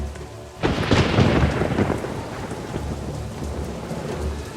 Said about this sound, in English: And the rain was on the earth 40 days and 40 nights.